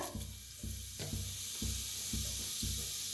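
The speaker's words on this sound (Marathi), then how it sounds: "आपलं तूप तेल चांगलं गरम झालंय त्याच्यात टाकूया मोहरी अर्धा चमचा अर्धा चमचा जिरा" Mustard seeds and cumin crackle and sizzle in hot ghee and oil, giving a rhythmic series of pops and spits over a soft, steady hiss. The sound is fairly quiet, with no talking.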